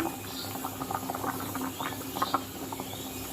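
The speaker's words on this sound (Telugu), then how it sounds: "చూసారా మరుగుతుంది పులుసు" Fish curry (pulusu) made with bocchu fish bubbling in a pot, a steady soft burble with small pops and patter throughout.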